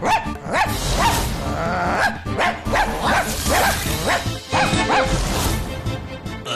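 A dog barks repeatedly in quick, loud, close bursts, mixed with yips and some whimpering, in an animated kids' show.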